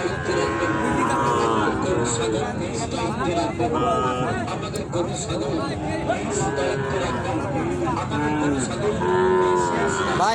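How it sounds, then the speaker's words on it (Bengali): Cattle moo repeatedly at a busy market selling Sahiwal bulls and calves. The calls are loud and near, mixed with a constant crowd babble and people talking and bargaining close by. "এই গরুটা সবাইকে ডিস্টার্ব করতেছে"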